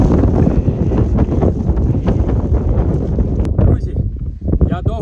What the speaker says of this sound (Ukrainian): дуже вітер і вам буде дуже вітер чути в камері